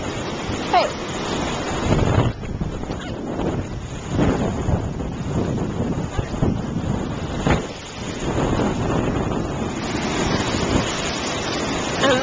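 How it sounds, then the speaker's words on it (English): Strong wind at Myrtle Beach buffets the microphone in a steady roar, with people talking and shouting over it throughout. "It's really windy."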